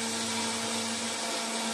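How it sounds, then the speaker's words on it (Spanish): An immersion blender whirs steadily and loudly while making mayonnaise, a continuous high motor whine with a strong tonal hum and no pauses. "Cogemos la batidora y la vamos a meter abajo."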